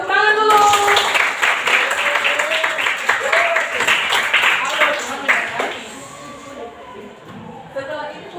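Students in a classroom clapping together, a dense patter of claps with overlapping voices, fading out after about six seconds as talk continues.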